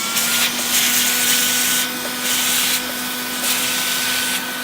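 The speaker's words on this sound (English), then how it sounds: "So we're going to vacuum them up." A vacuum cleaner sucks metal drill chips out of a window track and from behind the gasket on a Sprinter van during a vent window retrofit. It runs steadily and loud, with bursts of rattling and scraping as the nozzle moves.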